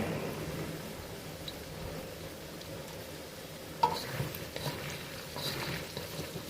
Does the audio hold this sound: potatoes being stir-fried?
yes